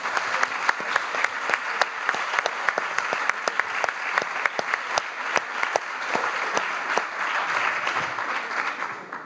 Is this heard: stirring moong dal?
no